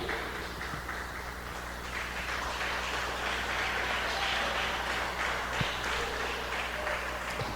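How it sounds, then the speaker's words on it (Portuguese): A church congregation in a Brazilian evangelical service claps together, a steady dense wash of applause holding at an even level from start to finish with a faint background hum beneath. "Vamos aplaudir bem forte ao Senhor."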